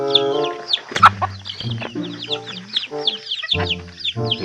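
Backyard chickens on a Philippine farm cluck and squawk close by in a busy, uneven run of calls, with sharp chirps from smaller birds mixed in.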